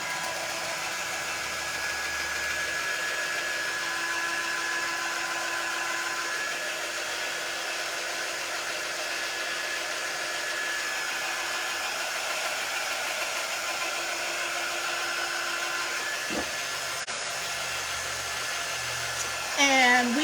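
A hair dryer blows steadily at close range to dry paste on a craft stencil, a continuous even whoosh lasting nearly the whole stretch before it cuts off near the end.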